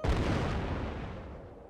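A weapon shot explodes in Worms 3D with a loud, close boom up front that rumbles and decays over the following second and a half.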